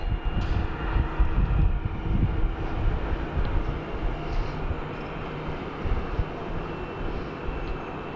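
A Jetstar airliner at Sydney Airport produces a steady low engine rumble with a constant broadband roar, moderately distant and unchanging for several seconds, with no voices.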